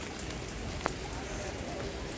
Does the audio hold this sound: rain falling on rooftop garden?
yes